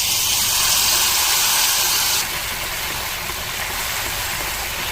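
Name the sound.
mustard paste sizzling with fried okra in pan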